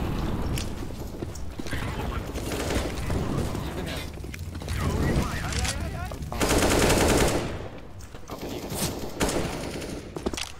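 Video game gunfire from a multiplayer shooter: rapid automatic bursts and single shots crackle loudly and repeatedly, some close and some farther off, with excited voices talking over the action.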